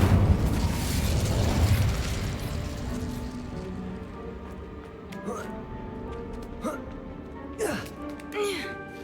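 An Incendio fire spell is cast in Hogwarts Legacy, a loud whooshing burst of flame that decays into crackling pops, with a voice speaking in between.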